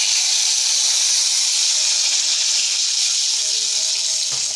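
Cinnamon and bay leaf sizzle in hot refined oil, a steady close, bright hiss that runs unbroken and fairly loud, easing slightly near the end.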